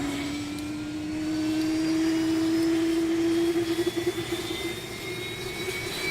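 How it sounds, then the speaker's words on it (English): Airbus A321 Pratt & Whitney engine start in a flight simulator sound pack: a steady jet whine slowly rising in pitch under a low rumble, loud and continuous, with no voices. "Same thing for the start. You can hear the ignition."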